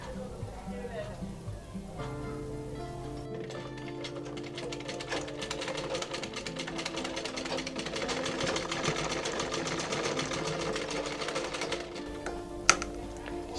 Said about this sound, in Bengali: রেখে এখানে আমি একটা সেলাই করব। আর এই সেলাইটা কিন্তু একটু ডাবল করে দেওয়া লাগবে।